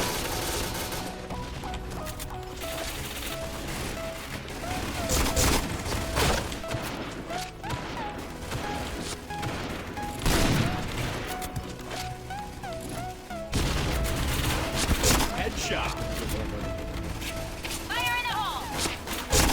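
Rapid gunfire and weapon clatter from the online shooter Point Blank, with dense bursts and impacts running throughout over game music and effects, with a player's voice talking over it.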